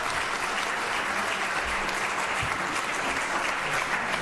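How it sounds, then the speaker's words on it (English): Members of a state legislative appropriations committee give a sustained round of applause, an even, dense patter of many hands clapping throughout with no break. "Members, if you would give him a round of applause and thank him again for his detailed presentation."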